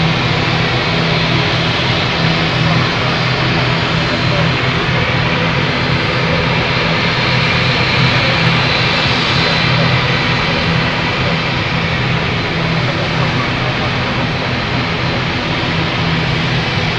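Aircraft engines starting on the apron at London City Airport: a loud, close, steady roar and whine that holds unbroken throughout.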